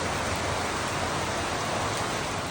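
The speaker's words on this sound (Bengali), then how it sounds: "খুব বৃষ্টি নামছে আজকে" Heavy rain pours steadily at night over a village house, a dense continuous wash of hiss with no breaks, fairly soft and even throughout.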